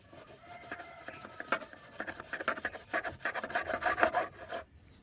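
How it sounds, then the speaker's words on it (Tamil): A knife slices a lemon into small pieces for a mojito, giving a run of quick, close rasping cuts that grow busier and louder before stopping abruptly. "இந்த மாதிரி குட்டி குட்டியா லெமனை கட் பண்ணிக்கணும்."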